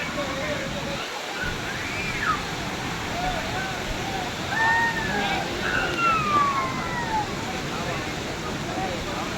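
A waterfall on the Girnar mountain trek near Jatashankar gives a constant broad rush of falling water, with voices and faint whistling tones drifting over it.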